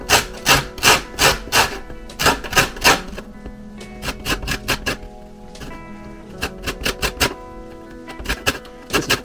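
Lemons being zested for elderflower champagne, a quick run of sharp rasping scrapes in bursts with short pauses, close and fairly loud, no talk.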